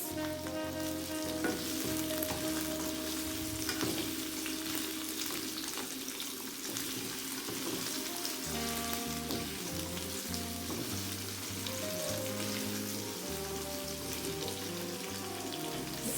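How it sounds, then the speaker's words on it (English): Chicken for sweet and sour chicken sautés in a pan, giving a steady, close sizzle and spatter throughout, with soft music playing underneath. "So we're going to saute this for about 2 minutes."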